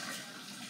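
Food being rinsed in a bowl under running tap water after seed removal, a steady close splashing rush that continues without a break for the short moment.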